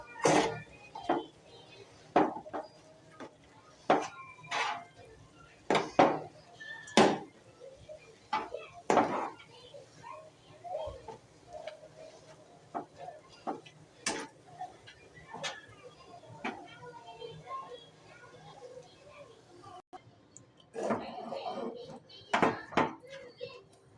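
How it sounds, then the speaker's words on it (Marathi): Semolina dough stirred in a pan until it thickens into a ball, giving a run of scraping, clacking spoon-on-pan knocks at an irregular rhythm, some sharp and loud, with quieter rustling between them. "घट्ट होईपर्यंत असंच मिक्स करत राहायचं आहे ना।"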